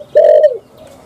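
A single close, loud coo from a spotted dove, a smooth falling note lasting about half a second, followed by quiet.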